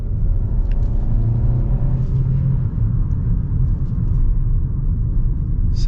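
Turbocharged 1.6-liter engine of a 2024 Hyundai Kona Limited heard from inside the cabin while accelerating, a loud steady low rumble with a faint rising engine tone over road noise, no talking.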